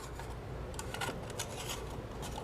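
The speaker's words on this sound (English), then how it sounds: "And clip that off real quick, do little clips." Wire cutters snip off small ends during installation of a J Tech Photonics laser on a Shapeoko Pro XXL CNC machine, giving a few quick, light clicks over a steady background hiss.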